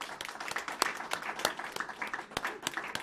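A small group at a city council meeting gives a sparse round of applause, individual claps distinct and uneven rather than a dense roar, fairly quiet in the room.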